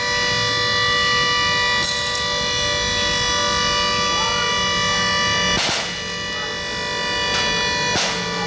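At a Darwin bombing commemoration, a civil defense air raid siren holds a loud, steady multi-tone wail, broken by a few sharp bangs.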